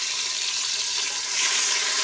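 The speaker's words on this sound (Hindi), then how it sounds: "अब हम टमाटरों को भून लेंगे।" Tomatoes fry in a pan with browned onions and garlic, giving a loud, close, continuous sizzle with no speech over it.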